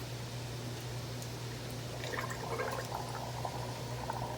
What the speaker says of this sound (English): Let's go ahead and suck out some water.